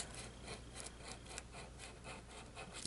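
Sharpie marker drawing freehand on paper, a steady close scratchy rubbing with repeated short strokes and no talk.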